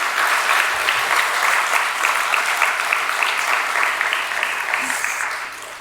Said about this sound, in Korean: 우리 들어갈 때 우리 축복의 박수 하겠습니다.